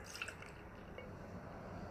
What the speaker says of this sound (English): I'm going to go ahead and pour it into my beer mug here so you can get a look at the color.